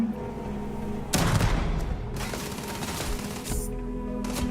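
Heavy booming blasts of cannon fire crash in bursts over a dense, noisy Starfield game soundscape, loud and close with sustained rumbling between shots.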